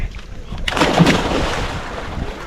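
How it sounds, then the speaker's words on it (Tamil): A person dives into a small swimming pool at Foggy Mountain Adventure Park in Kakkadampoyil, Kozhikode, Kerala. One close, loud splash breaks out, followed by a lingering churn of water. "நான் இப்போ டைவ் அடிக்கிறேன் பாருங்க."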